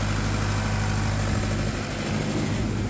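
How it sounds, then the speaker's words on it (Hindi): A 50 kVA single-phase generator set built on a turbocharged Tata 709 engine runs steadily, a loud continuous low diesel drone with strong vibration and no voices over it. "50 kV सिंगल फेस का दोस्तों जेनसेट है, टर्बो चार्ज इंजन के साथ में, टाटा 709 के"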